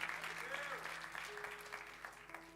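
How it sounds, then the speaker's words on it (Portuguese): A church congregation applauds in a faint, steady wash of clapping for a couple of seconds while a voice carries on over it. "Pode aplaudir o Senhor, exalta o Senhor."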